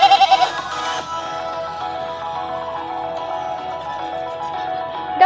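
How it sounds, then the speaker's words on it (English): A goat bleats loudly in a few wavering, nasal cries, close by, with a short sharp call at the very end. "This is goat"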